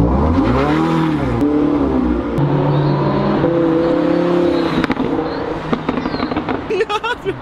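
Lamborghini Huracan engine revving as it drives past on a Beverly Hills street: a loud, close engine roar with rising and falling pitch, sharp pops and crackles, fading toward the end amid street noise and some voices.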